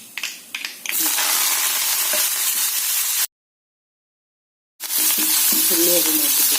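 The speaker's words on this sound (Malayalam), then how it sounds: "സാമ്പാറിന് കുറച്ച് കടുക്, ഉലുവ, ഉള്ളി, കറിവേപ്പില ഇതൊക്കെ വറുത്തിടുന്നു." Mustard seeds, fenugreek, onion and curry leaves fry loudly in hot oil for sambar, a steady bright sizzle with stirring scrapes, broken by a short silence partway through before the crackling resumes.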